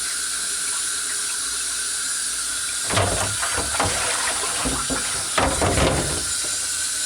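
Tap water runs into a sink to rinse a gum bichromate print: a constant hiss of flowing water, with louder splashing bursts midway and near the end as the stream hits the print and tray.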